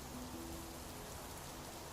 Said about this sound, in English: It's torrential rain right now.